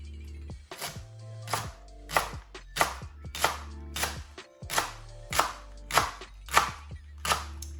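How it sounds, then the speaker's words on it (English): A knife chopping vegetables on a cutting board while prepping double vegetable fried rice, about eleven crisp, evenly spaced strikes roughly every two thirds of a second, close and clear with no talking. "So I'm gonna cut the other ends and then just cut these a little thicker than the bottoms"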